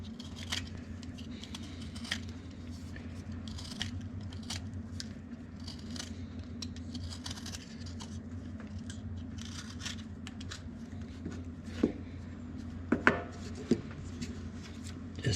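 Drywall being trimmed around an access hole, a long run of small, quiet cutting and scraping strokes under a steady background hum, with a few louder clicks near the end and no talking.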